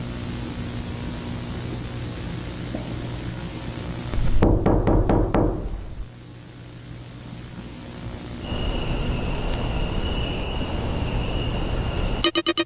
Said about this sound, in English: I know it's the wolf that's knocking.